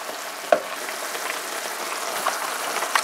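A homemade dog food mixture cooks in a pan with a soft, steady sizzle and crackle, broken by a few brief louder pops; no one talks.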